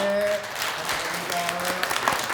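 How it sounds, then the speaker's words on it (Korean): A church congregation at a Sunday service claps steadily in welcome for newly registered members, dense applause continuing while a voice speaks over it. "우리 인사할 때 크게 박수로 환영하겠습니다"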